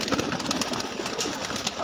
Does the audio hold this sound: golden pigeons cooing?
yes